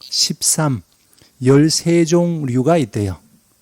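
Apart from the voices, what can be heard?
No everyday noise stands out behind the speech.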